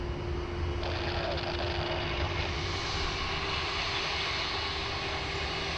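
An airliner taxiing at Sydney Airport, its jet engines giving a steady, loud broadband roar with a constant whine that holds throughout, close and unbroken.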